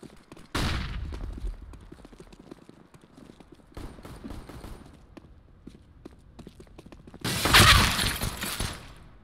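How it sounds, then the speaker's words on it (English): A flashbang grenade in CS:GO on the Basalt map during a short competitive match: a sharp impact early, faint clatter and footsteps, then a loud, bright burst near the end. "Flashbang out."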